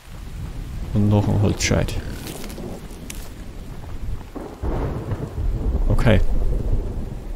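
Rain and rolling thunder from The Infected survival game play as a steady wet backdrop, with a louder rumble swelling near the end, while someone talks over it in German.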